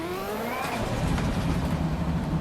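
Ferrari F40 LM engine in the video game Assetto Corsa EVO, a steady loud mechanical drone with a rising rev sweep early on, then a sustained high-rpm roar heard from close up.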